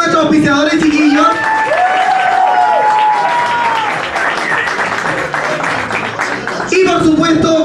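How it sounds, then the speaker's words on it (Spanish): A studio audience at a Chilean TV show applauds for the sponsors, steady clapping and crowd noise under a loud voice talking over it. "fuerte el aplauso para nuestros auspiciadores"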